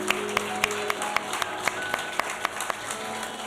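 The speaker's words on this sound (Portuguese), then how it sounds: "Você pode aplaudir o Senhor mais uma vez?" A church congregation claps along in an even, regular rhythm of distinct sharp claps, moderately quiet, under a faint background of sustained tones.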